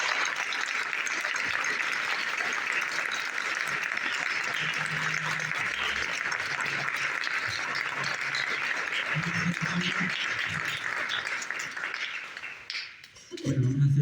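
Audience applause at a radio programme recording in the village of Belchite, a sustained crowd of clapping held at a steady level for several seconds before tapering off, with brief talking near the end.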